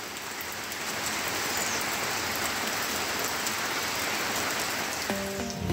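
Heavy rain pours steadily in a garden, a dense even hiss of drops on leaves and ground lasting throughout, with a brief tonal chime near the end.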